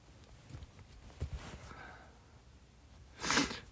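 A single sharp, noisy cough bursts out close to the mic near the end, after a few faint soft breathy sounds and an otherwise quiet room.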